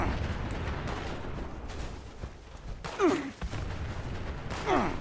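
Explosions in the video game Fallout 76 go off as two booming blasts over a low rumbling background, moderately loud, with the second burst near the end.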